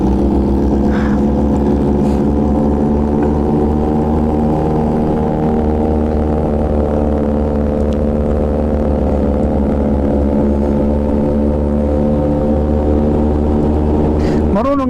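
A motorcycle engine drones steadily at close range, a loud, constant low rumble that holds for the whole stretch, with a slight rise in pitch near the end.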